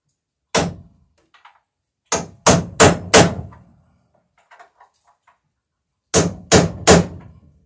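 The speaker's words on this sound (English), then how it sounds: "Gets easier and easier to nail these as you get to the narrower part of the board" A hammer drives nails into wooden planks of a Chamberlain Alpha dory: one sharp blow, then a quick run of four, a pause, and a final burst of three, loud and close with no talk.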